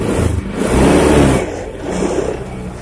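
A motorcycle engine revs as the throttle is pulled during a battery charging current check, rising to a loud steady whir, easing, then swelling again close by.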